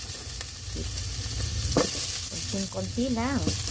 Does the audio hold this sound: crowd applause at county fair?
no